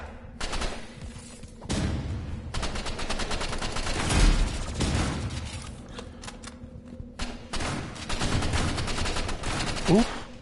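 Roblox shooter gunfire, rapid automatic bursts of shots in quick clusters separated by short pauses, loud and close, with a player's voice briefly audible near the end.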